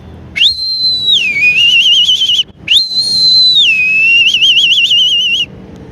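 A man whistles an imitation of a hawk's call: two long, loud piercing cries, each a high rising note that slides down and ends in a warbling trill, with a brief gap between them.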